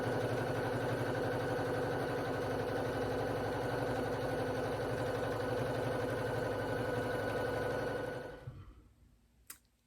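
A sewing machine quilts a quilt top with yellow thread, running in a steady, fast, even whir of close stitching for about eight seconds before stopping abruptly, leaving quiet with a faint click.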